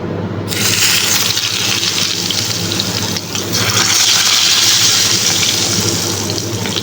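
Eggplant frying in a small amount of oil in a pan, giving a loud, steady sizzle that crackles continuously throughout with no voices.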